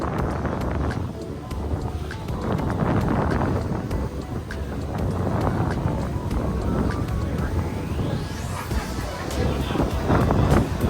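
Aboard the pirate-style cruise ship Queen Ashinoko on Lake Ashi in Hakone, Japan, a steady, loud rumble of engine and wind buffeting runs throughout, with indistinct voices mixed in.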